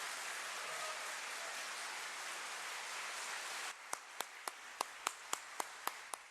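An audience at an inauguration ceremony claps in a full, sustained burst of applause that cuts off abruptly, leaving about ten sharp, evenly spaced single claps.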